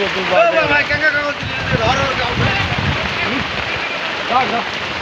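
Steady rain falls throughout on a rural spot in Naogaon, Bangladesh, a constant close hiss under several people talking.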